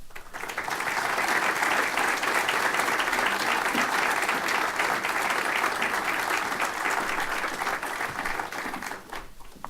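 An audience applauds to welcome a speaker at a talk, with many hands clapping in a thick, steady wash for nearly ten seconds before it thins out at the end.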